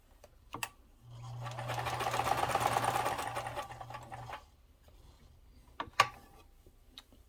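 A Kenmore 158.13400 sewing machine stitches in one steady run of about three seconds, a close mechanical whir with rapid clatter, framed by a few sharp clicks before and after.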